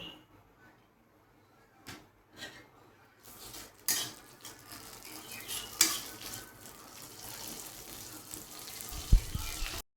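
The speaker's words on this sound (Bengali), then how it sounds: "এখানে যা ঘি আছে এটাতে আমি তেজপাতা আর এলাচটাকে আমি হালকা করে ভেজে নেব" Bay leaves and cardamom fry in ghee in a wok. A few utensil knocks and clinks come first, then a soft sizzle that grows denser and louder, with no talking.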